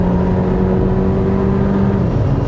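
A 2023 Renault XM3 TCe260 compact SUV accelerating hard, its engine note loud, steady and droning from inside the cabin with a tone that rises then dips slightly near the end.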